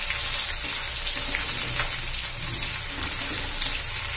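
Sliced onion frying in a pan with ginger and garlic, a steady close sizzle with watery crackle running evenly throughout, no voices.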